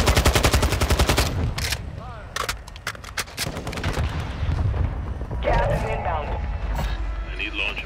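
Sniper and other gunfire in the Warzone shooter game, with several sharp loud shots early on, then scattered bursts and game effects under a talking player.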